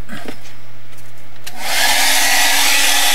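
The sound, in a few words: dryer drying a wet art journal background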